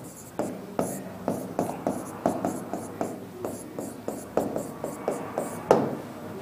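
Chalk or marker tapping and scratching on a board as an equation is written, a regular series of short close strokes, with faint voice in the background.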